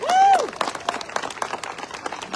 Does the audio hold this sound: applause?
yes